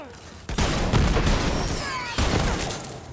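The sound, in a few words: gunfire in the video game Borderlands 3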